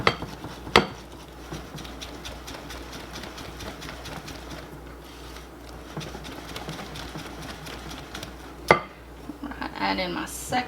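Flour being mixed into cake batter in a bowl for a gold cake, soft scraping and stirring close by with a couple of sharp clinks of the utensil against the bowl, fairly quiet.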